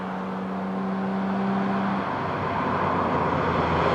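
A Ferrari Testarossa engine driven hard on a road, a steady loud drone with a low hum that shifts partway through, heard alone without talk.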